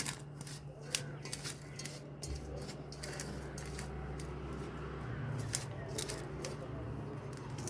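Garden fertilizer being mixed by hand for a jasmine plant, soft rustling and gritty crunching with scattered clicks, close up over a low steady hum.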